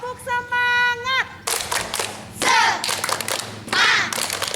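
Children's rhythmic clapping game at a Sunday school session, with sharp bursts of clapping in short groups following a voice at the start, fairly close and clear.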